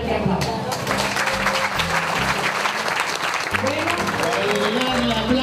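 Loud, sustained applause from an audience at a mural unveiling by the San Salvador municipal government, honouring muralist Isaías Márquez, with music or voices running underneath throughout.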